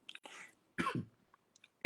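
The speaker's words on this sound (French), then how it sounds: "Désolé, j'ai toussé." A single sharp cough bursts out close by, with faint throat sounds and quiet breaths before it and another brief cough-like burst at the end.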